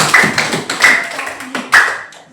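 A classroom audience claps for a student group, a few loud bursts of applause rising and fading over two seconds, close by, with a voice briefly heard among them.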